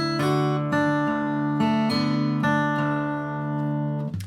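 An acoustic guitar in open tuning plays a short melody with slides and hammer-ons over ringing bass notes, several clear plucked phrases heard close and alone.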